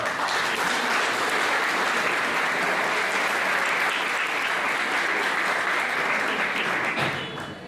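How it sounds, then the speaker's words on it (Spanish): Sustained audience applause at an evening international social sciences conference, steady and dense for about seven seconds before tapering off, with no talk over it. "la palabra al doctor Mario Roberto Morales, a quien le pido un gran aplauso, por favor."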